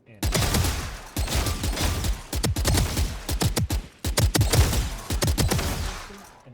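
Phantom rifle in the video game Valorant fired in rapid three-round bursts, sharp loud cracks in tight clusters separated by short pauses, repeated across the clip with no talk over it.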